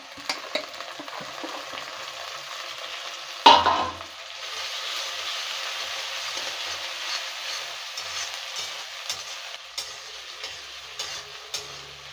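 Chopped tomato dropped into a hot pan with oil, a sudden splash and sizzle followed by continuous frying hiss with occasional scraping stirs, close and moderately quiet.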